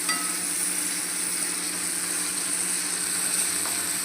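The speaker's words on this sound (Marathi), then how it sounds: "त्याला मस्त असं शिजून द्यायचं आपण याला कांद्याला." Onions with salt frying in a pan for a homestyle vegetable sabzi, giving a steady, close, even sizzle that holds at one level throughout with no voices.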